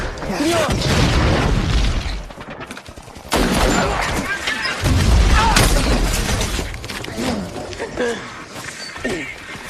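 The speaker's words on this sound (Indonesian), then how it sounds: "dalam baku tembak tersebut" A war film firefight keeps dense, rapid bursts of gunfire going alongside heavy booming explosions and shattering debris. The battle noise is loud and chaotic, and voices are heard amid it.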